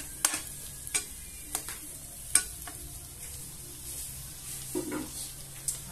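Garlic and onion sauté in a pan for a tuna and ham carbonara, a faint steady sizzle broken by several sharp utensil taps and scrapes, fairly close, with no one talking.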